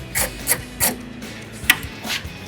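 Ratchet with a 10mm extension socket removing headlight bolts on a 2007-2013 GMC Sierra 1500, heard as a series of short, close raspy clicking bursts with brief pauses between them.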